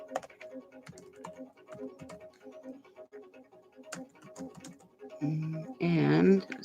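Someone types on a computer keyboard in a quiet room, making light, irregular clicks of keys for several seconds before a voice speaks near the end.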